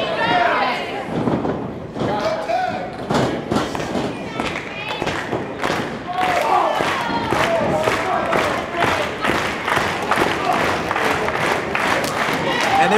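A wrestling arena crowd roars and cheers, trying to rally behind Gangrel during a tag-team match, with thumps from the ring and a commentator talking over the steady crowd noise.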